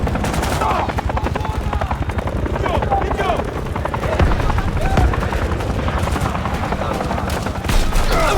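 An enemy helicopter hovers overhead in the Call of Duty MW3 campaign, its dense rotor thrum filling the scene alongside bursts of rapid gunfire and booms, loud and continuous, with voices speaking over the battle.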